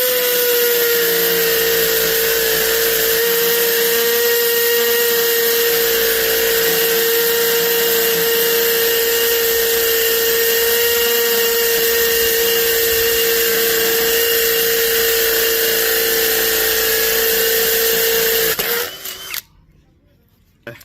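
A DX12 drill fitted with a 5/16 inch bit grinds into a concrete block with a loud, sustained whine up close, held for nearly twenty seconds before it cuts out and leaves brief quiet.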